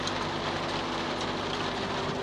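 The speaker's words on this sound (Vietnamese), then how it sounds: "trời cảm động mưa luôn rồi" Steady rain falls at a market in Vietnam, a dense continuous hiss that stays even and fairly loud throughout with a low hum underneath and no talk.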